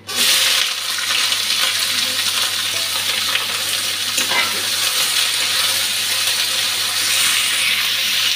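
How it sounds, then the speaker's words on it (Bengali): Bay leaf, dry red chilli and onion frying in hot oil for a green jackfruit curry, a loud, continuous close sizzle with a sharp burst as the ingredients hit the pan, no voices. "তেজপাতাটা, পেঁয়াজটা দিয়ে দিচ্ছি।"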